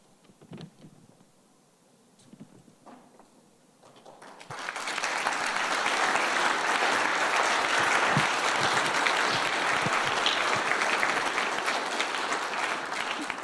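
Audience applause after a student ministry presentation, starting near the middle and swelling into a full, steady round of clapping from a large crowd, preceded by quieter room noise and scattered sounds.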